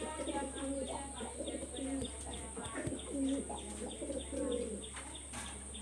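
Several pigeons, Pakistani high flyers and other fancy breeds, coo in repeated low throaty phrases close by, layered over steady background hum with a few faint chirps.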